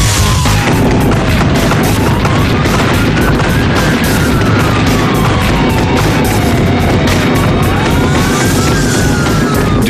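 A heavy gunfire exchange between police and a suspect in a field: continuous loud, dense shooting across the whole stretch, with a rising and falling siren wail underneath.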